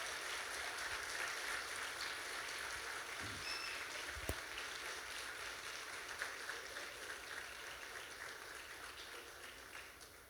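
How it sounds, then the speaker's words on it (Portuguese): A church congregation applauds in continuous, even clapping that fills the whole stretch, fairly faint and steady, with one sharp knock midway. "Vamos aplaudir a Jesus na vida dele."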